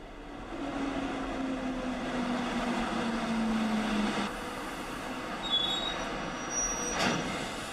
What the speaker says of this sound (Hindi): जो रेलवे ट्रैक्स पर मालगाड़ियां चलाई गई हैं